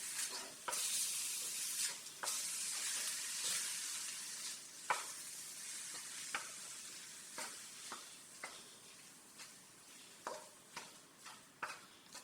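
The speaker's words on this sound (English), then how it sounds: "I'm going to stir it continuously" Meat pie filling cooking in a pan as it is stirred continuously, a soft hissing sizzle punctuated by regular scraping and tapping strokes of the spoon, quiet and close.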